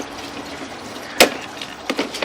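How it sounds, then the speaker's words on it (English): Water runs into an ABS plastic drain clean-out line, a faint trickling wash with a sharp splash midway and a few small gurgling bursts near the end. "We've run some water."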